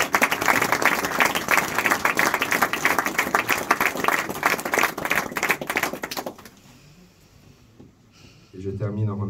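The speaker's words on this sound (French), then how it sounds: "je voudrais qu'on vous applaudisse parce que vous le méritez" A crowd at a local office inauguration bursts into loud, dense applause that lasts several seconds, then fades quickly into quiet before a speaker's voice resumes.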